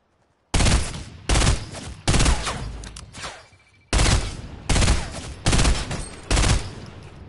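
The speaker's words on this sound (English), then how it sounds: "I got a fucking headshot on him" Video game gunfire rings out in seven loud, close bursts of rapid shots, each separated by a short pause, with no other sound between them.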